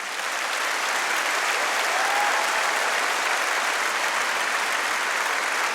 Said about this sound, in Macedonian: Сакам да ги поздравиме со аплауз.